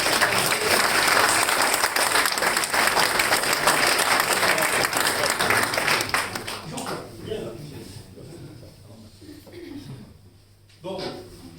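An audience gives sustained, dense applause at a European Ecolabel award ceremony at the Giffaumont-Champaubert centre. The clapping stays loud for about six seconds, then thins out and fades, with faint voices underneath.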